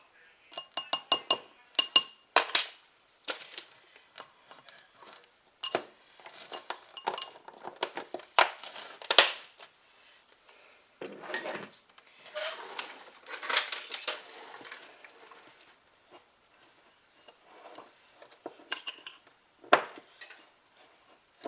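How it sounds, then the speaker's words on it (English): A utensil clinks and taps against a bowl while stirring a cocoa powder mixture, producing quiet scattered bursts of scraping and clinking separated by short pauses. "We want to mix this up nicely, get rid of all of the lumps and bumps."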